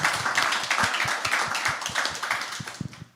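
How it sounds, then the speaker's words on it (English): A small audience claps after a speech at a live event, the individual claps close and distinct in an uneven rhythm before tapering off at the end. "think that's worthy of some applause."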